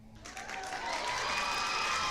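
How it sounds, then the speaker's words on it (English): A crowd cheers and applauds at an ESL Ladies Night StarCraft esports match, a faint swelling roar that builds steadily and holds. "That cheer just... Fills you up, doesn't it?"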